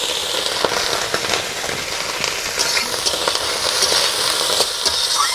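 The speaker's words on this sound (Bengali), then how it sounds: "সেগুলোকে আমি হালকা করে ভেজে নিচ্ছি।" Carrot and cauliflower pieces frying lightly in a pan for khichuri give a steady, close sizzle with dense crackling and occasional stirring clicks, unbroken throughout with no voices.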